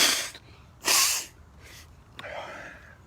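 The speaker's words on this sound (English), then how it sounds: "I gotta blow my nose." A person blowing their nose after eating something very spicy, with a few sharp, forceful nasal blasts separated by short pauses and a softer final exhale, close up and alone.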